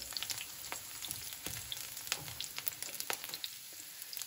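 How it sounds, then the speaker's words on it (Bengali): Garlic stirred and fried in a pan: a soft, continuous sizzle broken by repeated crisp scraping and clicking of the utensil against the pan, close and fairly quiet, with no talking. "এই যে দেখতে পাচ্ছেন রসুন, আমরা এটি নাড়াচাড়া করে একটুখানি ভেজে নেব"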